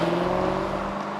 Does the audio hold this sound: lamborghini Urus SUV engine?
yes